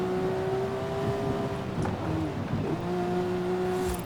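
A Porsche 911 engine drones steadily with strong harmonic tones, heard from inside the cabin, holding a fairly even pitch with a slight dip and recovery midway, loud and continuous with no talking.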